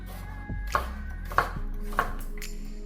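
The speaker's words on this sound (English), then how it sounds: "going to start by slicing some onion" A knife slices through an onion on a board in a few distinct cuts, each a sharp crisp chop spaced about half a second apart against a quiet low background hum.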